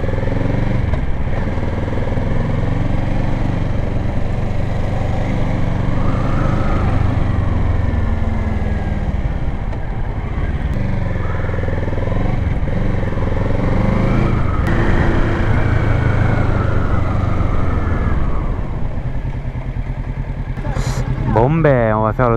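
Motorcycle engine running at low to moderate revs during braking and slalom exercises for an A2 licence, its steady putter rising and easing with throttle, close and loud under ongoing talk.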